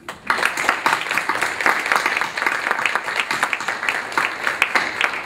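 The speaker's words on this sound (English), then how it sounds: "Please welcome the great round of applause." A crowd at a school district event welcomes a new superintendent with a sustained round of applause, many hands clapping steadily and densely for several seconds.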